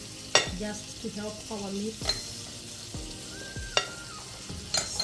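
Butter sizzles steadily in a hot pan before a steak goes in, with several sharp clinks of a utensil against the pan and someone talking over the frying.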